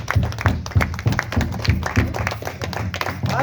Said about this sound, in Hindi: ताली लगाइए